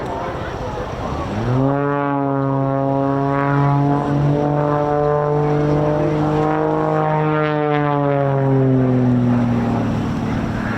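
An unlimited-class aerobatic plane flies a rolling tail slide at the RAF Cosford air show, its engine a loud sustained drone with a steady strong pitch that slowly sweeps as it maneuvers, with a faint voice underneath.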